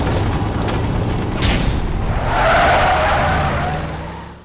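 A car skids on a bridge and crashes, rolling over; loud tire screech and rumble, a sharp impact burst midway, then a swelling grinding roar of tumbling metal that fades out.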